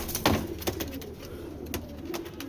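Giribaz pigeons coo in a loft, a few soft, close coos rising over a steady low background murmur with no talking.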